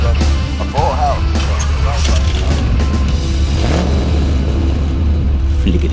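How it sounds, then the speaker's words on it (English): A car engine starts and settles into a steady, close mid-range running rumble, with brief revving, under some background noise and voices. "Flick of the switch and the engine turns over like a song"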